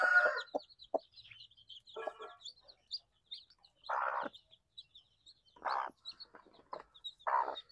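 Chickens in a backyard poultry pen give short clucks and soft calls in scattered bursts, close and fairly clear, with faint chirps in between and no voices.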